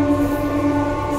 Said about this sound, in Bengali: প্রচন্ড ট্রেনের আওয়াজ।